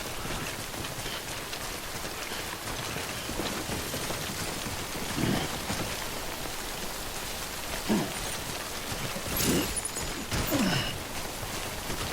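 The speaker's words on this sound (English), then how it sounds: "Good thing it was raining." Steady rain falls in the video game Death Stranding, an even hiss of drops with a few louder splashes and swells, with no voices.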